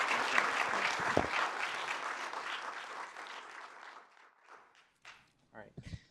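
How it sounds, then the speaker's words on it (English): Applause from an academic lecture audience after a talk, full and steady at first, then thinning out and fading over a few seconds, leaving a handful of scattered last claps and small room noises. "Let's give a round of applause."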